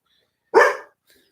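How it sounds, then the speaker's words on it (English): A single sharp dog bark rings out alone, loud and close, then fades into near silence with a faint trailing sound. "my dogs are going crazy."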